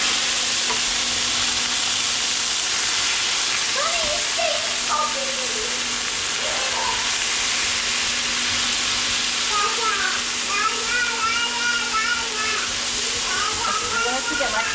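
Rice fries in olive oil in a pan with a steady, loud sizzle and hiss throughout, punctuated by occasional scraping and stirring sounds, with faint background voices at times.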